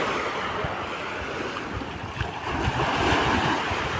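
Surf washes onto a Danish beach under steady gusting wind, with wind buffeting the microphone in a continuous, loud roar that swells slightly toward the end.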